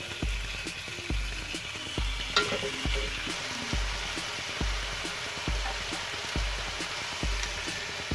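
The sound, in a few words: chicken breasts frying in pan in leftover onion fat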